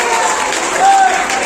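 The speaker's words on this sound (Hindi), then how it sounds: "तालियां बजा रहे" An audience at a municipal Holi gathering with poetry recitation claps steadily, a dense burst of applause heard up close, with a voice talking over it.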